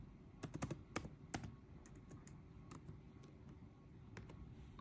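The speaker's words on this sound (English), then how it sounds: "in the search bar you just have to type" Keys on a computer keyboard tapped to enter a website name in a search bar, a quick burst of clicks followed by a few scattered keystrokes, close and fairly quiet.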